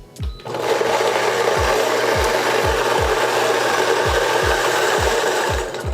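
An electric coffee grinder grinds coffee beans in one continuous loud whirring, gritty run after a short start-up, with a rapid rhythmic ticking and rattle of beans throughout, close and alone.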